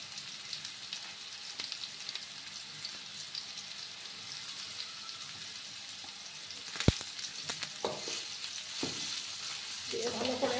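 Carrot, capsicum, potol and turmeric frying in a pan, a soft steady sizzle with a sharp clank and scraping stirs toward the end, no voices.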